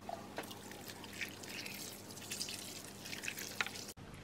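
Malt vinegar is poured in a quiet kitchen, a faint thin trickle with a few soft drips, close by but low in level, ending in a brief knock.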